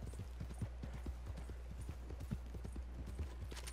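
Rapid, irregular hoofbeats of a horse clip-clopping along in Red Dead Redemption 2, close and steady, with a faint background hiss and no talk.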